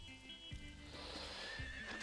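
A horse in the farming game Story of Seasons whinnies over light in-game background music, with a couple of soft hoof clops mixed in, close and fairly loud across about two seconds.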